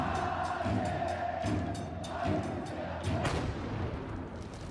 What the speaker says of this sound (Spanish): la explosión de petardos en medio de una actividad de la barra de Universidad de Chile